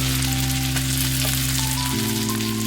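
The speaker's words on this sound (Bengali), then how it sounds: "ঘিয়ের মধ্যে দিয়ে ভালো করে ভাজছি দেখো" A paste of peas, capsicum and green chili fries in ghee with a loud, continuous, close-up sizzle over music.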